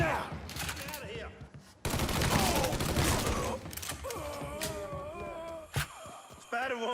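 Gunfire in the video game Mafia 3: bursts of rapid automatic shots and single cracks, loud and close, mixed with shouted voices and character dialogue.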